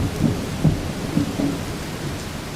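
Steady rain pours throughout with several low thunder rumbles rolling in near the start and middle, a continuous wet storm wash with no voices.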